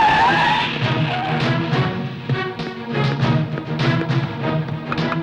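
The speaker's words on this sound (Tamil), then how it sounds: "உன் இஷ்டத்துக்கு வண்டி ஓட்டிட்டு வந்து போலீஸ் ஜீப்லயே மோத பாக்குற" A car driven recklessly skids with squealing tires as it nearly hits a police jeep, a loud, continuous screech under dramatic film score.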